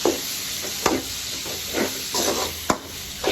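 Onions frying in a pan with salt for a Kerala-style chicken roast give off a hissing sizzle. Sharp scrapes and clacks of stirring rise above it every second or so.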